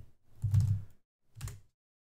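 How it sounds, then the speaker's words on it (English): A couple of soft keystroke clusters on a computer keyboard as a command is typed in a Linux virtual machine, close, quiet and brief, separated by a short pause, with no talk. "Now if we type in ifconfig again"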